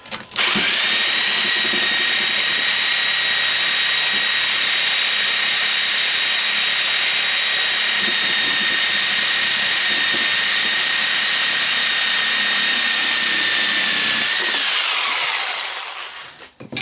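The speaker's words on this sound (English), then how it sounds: "Sawzall makes pretty quick work of it." A Sawzall reciprocating saw with a long blade cuts steadily through a scrap shop fan with a copper motor, a loud, continuous high buzzing whine for about fifteen seconds before winding down, with no talk.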